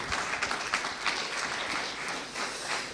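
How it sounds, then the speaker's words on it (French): An audience applauding Pauline at an association's annual general assembly, a sustained crowd clapping with gentle swells, fairly even and moderately loud, with no speech over it. "je crois qu'on peut applaudir"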